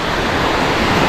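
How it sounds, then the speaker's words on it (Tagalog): Sea waves wash onto a shore in a brief, loud, steady rush of broadband surf noise with no pauses. "dito mo kami nagtabay-tambay ni Dagi habang nanonood sa dagat"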